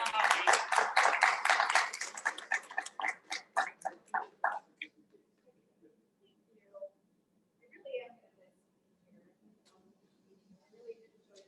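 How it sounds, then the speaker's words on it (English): Applause at a school board of education meeting, a burst of clapping from a small group that lasts about four seconds and then fades out, followed by quiet room noise and a few faint voices. "So if you join me in a round of applause to say thank you."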